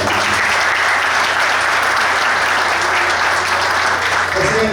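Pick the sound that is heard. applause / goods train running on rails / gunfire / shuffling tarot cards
applause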